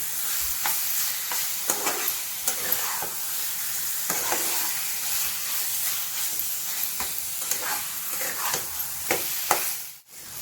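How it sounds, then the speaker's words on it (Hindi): Mushroom curry stirred and sautéing in a hot pan, a steady sizzle and frying hiss with intermittent scraping clicks of a spoon against the pan, close and alone without talk. "तापरे 5 मिनिट कषंतु।"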